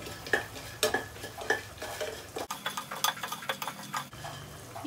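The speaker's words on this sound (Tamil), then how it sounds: "இப்போ நாம வந்து இதை நல்லா ஃப்ரை பண்ணிக்கோல." Ingredients for vatha kulambu frying in a pan while being stirred, with repeated scraping strokes and clinks of a spoon over a steady soft sizzle, close and fairly loud.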